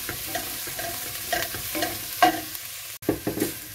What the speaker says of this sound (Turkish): İnce ince doğradığımız biberlerimizi soğanlarımıza ilave ediyoruz ve biberlerimiz de kavrulana kadar hafif pişireceğiz.